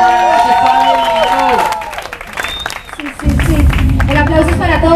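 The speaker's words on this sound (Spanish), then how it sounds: "Un aplauso para ustedes" A crowd at a family community event applauds and cheers loudly after a song ends, with voices and music fading in the first seconds and dense, continuous clapping swelling up near the end.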